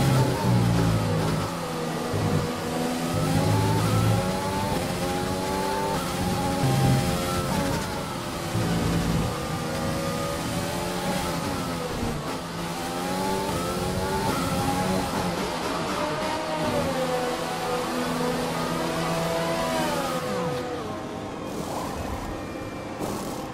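Race car engine in the F1 2020 game during a career-mode race in Austria, revving hard and continuously through repeated up- and downshifts, pitch sweeping up and down over a long lap.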